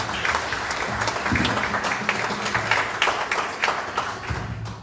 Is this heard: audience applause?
yes